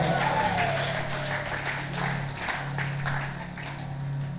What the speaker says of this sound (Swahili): Pigie Bwana Yesu makofi